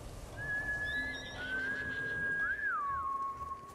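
A horse in Ghost of Tsushima whinnies in a long, high, wavering call that rises and falls, with a faint background hum and no speech.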